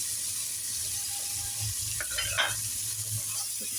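Chopped onions fry in a pan for paya soup, giving a soft continuous sizzle while a spoon stirs and scrapes them in a few brief bursts.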